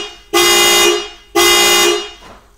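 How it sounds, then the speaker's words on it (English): Two long, loud car horn blasts from a 2007-2009 Kia Sorento, triggered as a remote-start lock confirmation, each held for about half a second, separated by a short pause. "Twice, we'll give us a horn honk confirmation."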